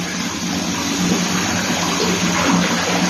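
Bath water rushes and sloshes steadily around a dinosaur egg bath bomb dropped into the tub, a continuous close watery gush without voices.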